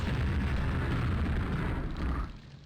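Rocket explosions in the shooter game Quake make a loud, sustained roaring blast that fills the clip and then drops off sharply near the end.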